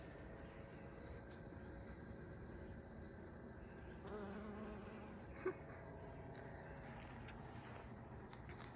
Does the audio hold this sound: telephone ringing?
no